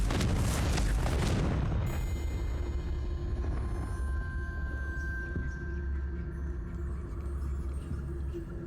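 A Confringo blasting spell from Hogwarts Legacy goes off in a loud, broad booming explosion that lasts about two seconds, then trails into a long low rumbling decay with faint ringing tones.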